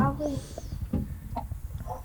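Chickens clucking and murmuring near a hen laying an egg on a farm, soft repeated clucks mixed with low background rumble and faint talk nearby.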